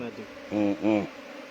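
Honeybees buzzing close by at a hive entrance as workers fly in and out, with two louder droning passes over a faint background hum.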